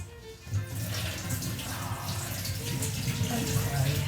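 Tap water runs steadily into a cooking pot as something is rinsed for a homemade chutney, a continuous close splashing hiss that swells slightly and holds for about four seconds.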